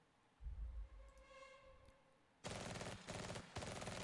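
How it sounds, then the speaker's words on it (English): Machine gun in the Valor & Victory wargame opening up with loud rapid bursts after a quieter low rumble, a short pause splitting the firing into two clusters. "This machine gun's currently engaging them during their defensive phase."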